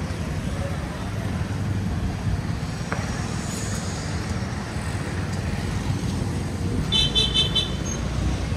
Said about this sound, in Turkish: Araba var burada.